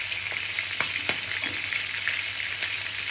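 Roasted cauliflower fries steadily in butter in a pan on reduced heat, a constant soft sizzle with a few faint stirring taps.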